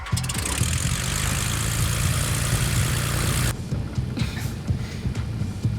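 A fighter plane's engine roars loud and dense as it readies for takeoff, then cuts abruptly to a lower, rumbling drone with scattered thumps, in a movie scene.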